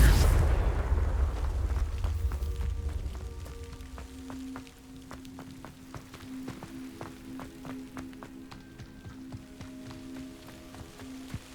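A Confringo fire-blast spell in Hogwarts Legacy goes off as a loud rumbling boom that dies away over a few seconds, leaving crackling debris and quiet ambient tones.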